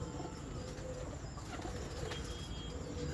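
Thakar breed pigeons in a loft coo and flutter steadily, with occasional wing flaps over a constant dense background murmur of birds.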